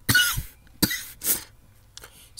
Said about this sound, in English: I do have a cough